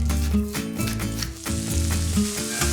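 Boneless short ribs sear in olive oil, a loud steady sizzle and crackle running throughout with occasional stirring clinks and no talking.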